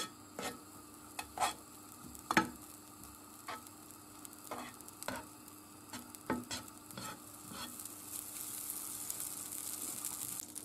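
Butter melting in a pan before crepe batter goes in, giving a soft sizzle with scattered light clicks and scrapes as it is spread around, fairly quiet and without talk.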